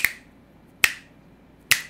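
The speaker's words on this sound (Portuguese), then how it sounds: "ou estalar dos dedos" Three crisp finger snaps, close and distinct, spaced almost a second apart in a quiet room, made as sync markers for audio and video.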